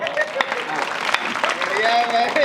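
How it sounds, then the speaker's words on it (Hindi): Audience applause at a Hindi poetry gathering, a steady patter of many hands clapping with a few louder claps, mixed with voices and chatter throughout. "ताली बजाओ"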